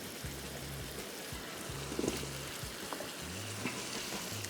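Turnips fry in a hot pan of oil for shaljam ka saalan, giving a steady, moderately loud sizzle with a low hum underneath and occasional soft stirring clicks, with no one talking.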